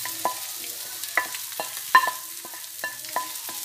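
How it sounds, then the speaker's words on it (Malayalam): Hot shallot and curry leaf tempering is stirred into a roasted-coconut aavoli (pomfret) fish curry, with intermittent clinks of a spoon against the pot over a low, steady sizzle, close and fairly quiet. "ഇനി ഫ്ലെയിം ഓഫ് ചെയ്തിട്ട് കറിയിലേക്ക് ഒഴിച്ചു കൊടുക്കാം"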